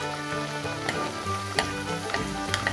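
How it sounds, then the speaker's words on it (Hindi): Rabadi paratha frying in a pan over a medium flame, a steady close sizzle with small crackles and pops throughout. "सिमिलरली हम बाकी पराठे भी तल लेंगे।"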